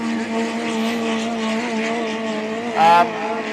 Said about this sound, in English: these 4AGE engines are actually starting to get a little bit hard to get, Vaughan.